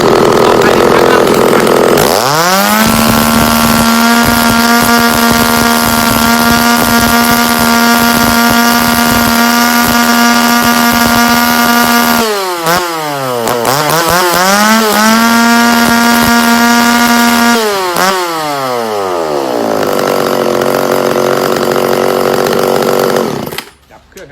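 A loud used Shindaiwa (Shingu) chainsaw from Japan starts up, then holds at a high, steady whine before dropping and revving up sharply again several times, close and continuous.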